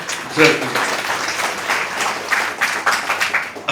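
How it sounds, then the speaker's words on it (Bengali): An audience at a nonprofit's cultural and award ceremony applauds a centenarian mother's poem recitation, a loud sustained patter of many hands mixed with a person talking over it. "এর জন্য আমরা ওনাকে করতালি দিয়ে"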